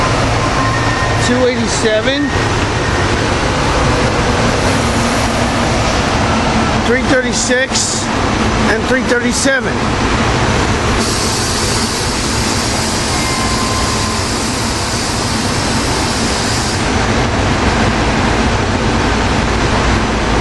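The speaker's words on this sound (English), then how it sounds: "a Septa train." A SEPTA commuter train bound for Paoli rumbles past at rush hour, a loud, steady roar of wheels and engine that holds throughout while someone talks over it, calling out car numbers.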